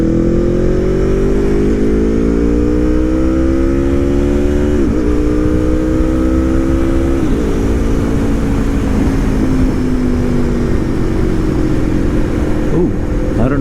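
An Aprilia motorcycle engine roars loud and close from the rider's position, holding a steady drone through several gear changes as it accelerates, with heavy wind rush throughout.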